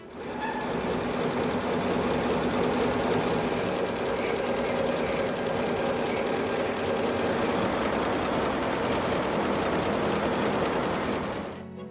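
A multi-color sequin embroidery machine runs steadily, a dense, continuous mechanical whir and rapid rattling that stays loud and even throughout without pause.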